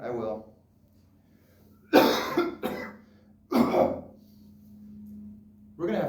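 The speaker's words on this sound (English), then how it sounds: "We're gonna have to get that cough looked into." A few harsh, close coughs in separate bursts, with quiet murmuring in between and a low hum underneath.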